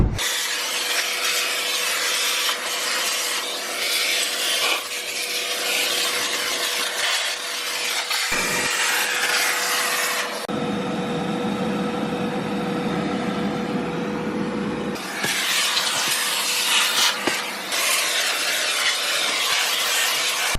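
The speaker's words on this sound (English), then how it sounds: "let me just get the vacuum here and do some cleaning" A vacuum cleaner works over a car interior, a continuous whooshing roar with a steady motor whine that shifts in tone and drops lower for a few seconds as the nozzle moves, with no talking.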